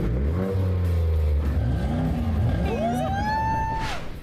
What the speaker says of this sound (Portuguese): Que ronquem os motores!